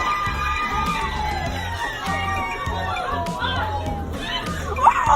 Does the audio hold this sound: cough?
no